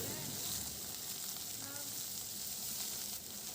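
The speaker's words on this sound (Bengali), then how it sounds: "এবার কড়াইয়ে খুবই নামমাত্র তেল একটু বেশ ভালোভাবে গরম করে এর মধ্যে আমি দিয়ে দিচ্ছি কয়েকটা বেগুন।" Long-cut eggplant pieces sizzle in a small amount of hot oil in a kadai, a steady close frying hiss with faint background murmurs and a slight drop near the end.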